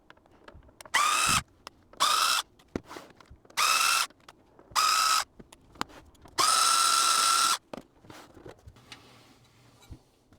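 A power screwdriver whirs in five short close bursts, the last one longest, as it removes the lid screws of a vintage Sharp DX 150 CD player, with small clicks and handling noise between the bursts.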